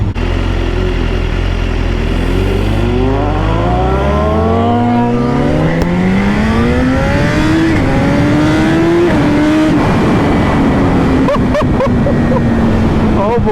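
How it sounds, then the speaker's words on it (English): A BMW HP4 motorcycle engine screams loudly up close, climbing through repeated quick-shifter gear changes, each shift a brief dip before the pitch rises again, with wind roar underneath. "the gear changes are just incredible"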